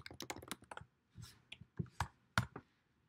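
Fingers tap a computer keyboard at a desk, quick clusters of crisp close key clicks with short pauses between bursts, alone without talk.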